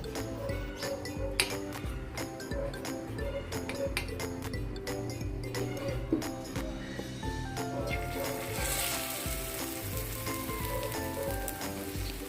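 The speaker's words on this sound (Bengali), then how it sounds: "বড়াটাকে আমি তেলে ছেড়ে দিলাম এরপরে একটা একটা করে সব বড়াগুলোকে আমি তেলের মধ্যে ছেড়ে দেব" Batter fritters (bora) sizzling steadily in very hot oil, a continuous crackle with scattered clinks of a utensil, the frying growing brighter and louder toward the end.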